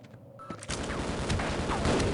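Gunfire in the video game Half-Life: dense, sustained bursts of shots and loud crackling fire after a brief quieter start, close and continuous.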